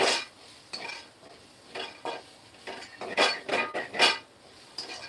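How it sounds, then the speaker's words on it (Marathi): Dried lentil dumplings (sandge) roasting and being stirred in a pan with onions, giving repeated scraping and clinking strokes of a utensil against the pan in an uneven rhythm, close and fairly clear. "बघा हे छान भाजत आले आता"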